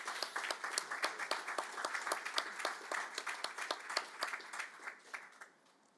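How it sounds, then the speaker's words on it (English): A round of applause from a small crowd at a school board meeting, brisk overlapping claps that build and then fade out toward the end. "How about a nice round of applause from Mrs."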